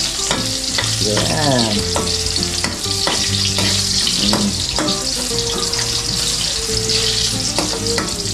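Garlic frying loudly in a pan for caldereta, a dense close sizzle with repeated spatula stirs and scrapes, and a brief spoken word near the end.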